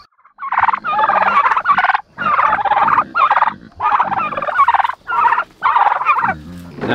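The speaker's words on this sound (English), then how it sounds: "Now these turkeys, they're more of a commercial breed turkey." Commercial breed turkeys gobbling in a flock, loud rapid warbling calls in repeated bursts close by, one after another with short pauses between.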